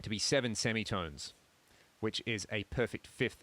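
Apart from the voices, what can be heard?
No distinct noise like a dog, phone or traffic.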